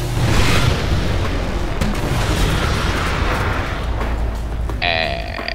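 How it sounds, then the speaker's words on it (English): An incineration cannon fires and explodes in the video game Halo: Spartan Strike, making loud, dense booming blasts. A continuous rumbling roar runs throughout, and a brighter electronic tone rises near the end. "So this must be the incineration cannon, I'm guessing."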